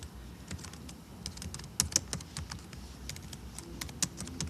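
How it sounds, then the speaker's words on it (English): Typing on a computer keyboard, a steady run of close, crisp key clicks in uneven bursts with a few sharper strikes, no talking. "sorry, my typing isn't great right now"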